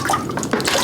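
Two cups of water poured into a pot for a maple syrup base, a steady close splashing and trickling that runs continuously for under a second with no talk over it.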